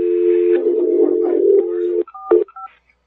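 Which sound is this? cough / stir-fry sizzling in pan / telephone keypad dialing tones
telephone keypad dialing tones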